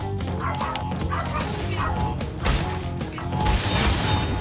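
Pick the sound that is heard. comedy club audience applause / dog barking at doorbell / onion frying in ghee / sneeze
dog barking at doorbell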